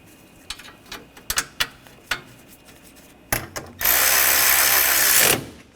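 Bolts on an AC condenser bracket of a 2013-2022 Buick Encore being run down, first with scattered metallic clicks and taps, then a loud, steady power-tool whir lasting about two seconds up close.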